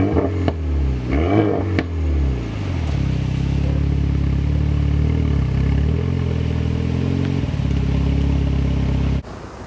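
A car engine starts with a few clattering bursts, then runs steadily at a low hum for several seconds before cutting off abruptly.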